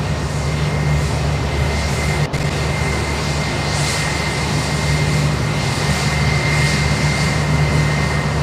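A Qatar Airways jet moving at Sydney Airport, its engines producing a loud, steady roar with a sustained drone, close and continuous with no talk.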